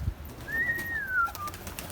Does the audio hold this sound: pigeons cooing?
yes